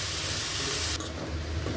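Turmeric fries in hot oil in a pan with a steady, close hiss that drops in brightness partway through.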